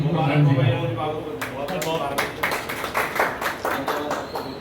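Applause at an RWA felicitation in a colony gathering, a crowd clapping steadily and loudly after an announcer's voice, a dense burst of hand claps that continues to the end.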